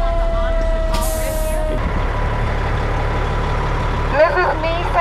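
Fire trucks idle outside a school building, their deep engine rumble steady throughout, with a brief hiss of air release and a short squeal of brakes, while a voice speaks nearby.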